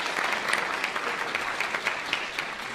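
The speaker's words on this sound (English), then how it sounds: "A round of applause for them because I appreciate it." Applause from a university lecture audience, a steady dense patter of many hands clapping throughout, fairly close and even in level with no talk over it.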